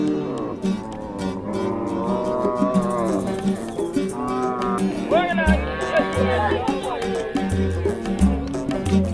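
Cattle driven out to graze by men and boys in rural Uganda give drawn-out lowing moos, loud and near, mixed with human voices and shifting background noise.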